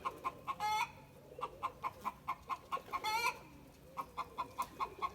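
Roosters and chickens on a farm cluck in a steady close series of short calls, with two longer crow-like cries rising above the flock, and no one talking.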